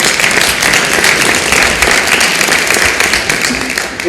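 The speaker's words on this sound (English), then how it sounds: "deserves a huge round of applause" Sustained broadband clapping from a crowd at a community coalition forum, honoring a student; steady and loud throughout, with no speech on top.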